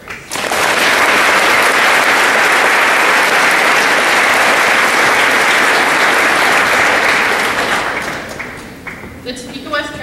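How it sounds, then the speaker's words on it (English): A crowd at a school Veterans Day ceremony gives sustained loud applause for veteran staff members, a dense wash of clapping that fades out near the end. "Chargers, let's give one more round of applause to our veteran staff members."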